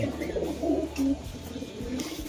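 Pigeons feeding from a clay pot coo softly nearby, a few low purring calls set against steady indoor background noise.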